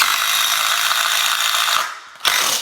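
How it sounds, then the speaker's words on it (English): A drill drives a 1-inch paddle bit into a wood framing member during bathroom renovation, a loud grinding whir that drops briefly then resumes, close with no talk. "I'm gonna take a 1-inch paddle bit and drill right in the center of this little mark"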